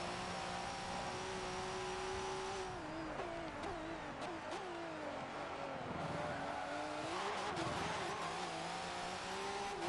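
A V8 Supercar engine races in Forza 7 at Rio de Janeiro, revving hard and steadily through gear changes, with brief tire squeal over about ten seconds and no talking.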